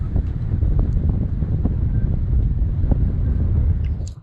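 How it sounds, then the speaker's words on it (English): Wind blowing hard at an anchorage by the North Pass entrance to Fakarava, a loud continuous rumble and buffeting across the microphone with no speech. "the wind is still blowing"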